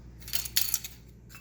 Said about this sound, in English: Have to find that teaspoon.